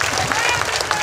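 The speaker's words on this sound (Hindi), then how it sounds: "जोरदार ताली बजा के।" An audience at a crowded political rally in Bhadesar claps loudly in a dense, continuous wave while a voice speaks over the applause.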